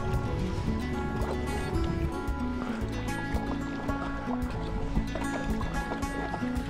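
Stand-up paddleboard paddled across Lake Kussharo, with soft, close liquid gurgles and sloshes from the blade under a steady layer of background tones and no talking.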